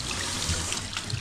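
Water running over hair during a rinse at a barber shop in China, a steady close splashing trickle throughout, no talking.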